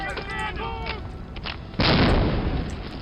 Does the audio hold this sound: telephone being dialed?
no